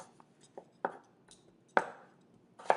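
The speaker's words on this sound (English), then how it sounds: "Do the same thing here. Cut it into slices." A knife slices vegetables on a cutting board while making vegetable korma, giving several sharp, separate cuts at an uneven pace against a quiet room.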